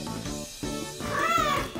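A cat in the video game Princess Evangile gives one drawn-out, rising meow near the end, set against steady game background music.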